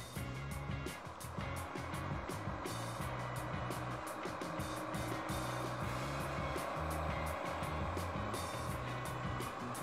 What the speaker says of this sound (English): I have a truck passing right by me now.